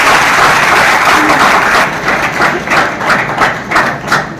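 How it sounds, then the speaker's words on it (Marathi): Students burst into applause at a school felicitation ceremony, a loud crowd of many hands clapping in a dense, uneven rattle that continues throughout. "विद्यार्थ्यांनी टाळ्यांचा गजर चालू करायचा आहे।"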